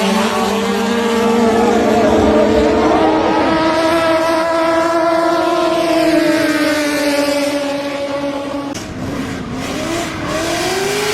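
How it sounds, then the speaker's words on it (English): Mini turbocharged boats drag racing on a river in Thailand, their engines roaring loud and close with steady whining pitches that rise as they accelerate, and a brief dip near the end before the engines surge again. "the people love to drag race each other in their mini turbocharged boats"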